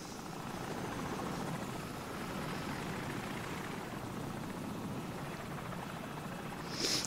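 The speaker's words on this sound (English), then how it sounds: "You hear that? Alright, get down. Helicopter." A helicopter in the video game Call of Duty 4 flies overhead, its steady rotor chop and engine drone filling the scene at constant loudness, with no talk.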